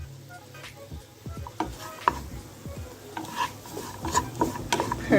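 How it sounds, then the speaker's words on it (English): Nuts coated in sugar are stirred in a pan as the sugar caramelizes, with close scraping and clinking strokes over a soft sizzle. "so just coat the nuts with the sugar"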